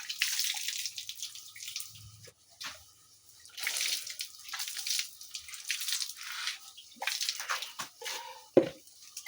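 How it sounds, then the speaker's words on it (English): Hands being washed and rinsed with poured water outdoors in a village kitchen, with splashing bursts and drips coming and going near the microphone, a brief louder splash toward the end, no talk. "Let me wash my hands nicely."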